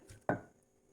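Herbs for Thai steamed tilapia are pounded coarse in a mortar: a single close, solid pestle thud that rings briefly and fades, with quiet room noise before and after.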